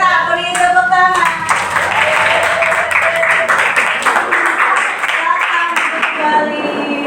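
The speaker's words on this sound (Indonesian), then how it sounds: "kita beri tepuk tangan" A classroom of students applauds together, a steady wash of clapping that runs throughout with children's voices mixed in.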